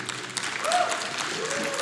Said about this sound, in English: Let's give a quick round of applause for everyone that you see behind the scenes.